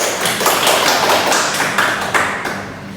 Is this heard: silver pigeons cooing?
no